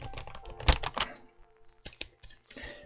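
Skyloong GK61 Pro 60% mechanical keyboard with stock switches and stabilizers, keys pressed in a quick uneven flurry of close clacks, then a few sharper louder strikes after a short pause, no talk.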